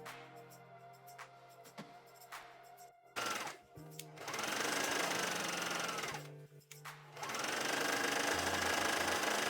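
A serger sews a fabric circle skirt in a close, steady mechanical whir. Two long runs of stitching come after quieter handling sounds, with a brief stop between them.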